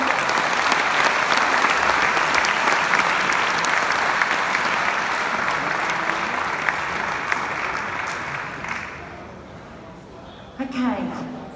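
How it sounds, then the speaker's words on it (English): A concert audience in Lisbon at an evening with a band applauds loudly and continuously, the clapping slowly thinning and fading toward the end. "Thank you. Round of applause."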